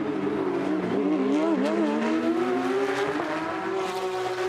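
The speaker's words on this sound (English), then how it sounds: "Such distinctive exhaust notes from these flat 6 engines." Porsche Carrera Cup race cars with 4-litre flat-six engines on a Toronto street circuit, loud close exhaust wail rising and falling through gear changes and revs, one car dominant and continuous throughout.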